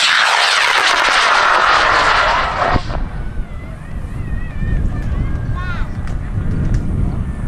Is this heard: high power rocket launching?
yes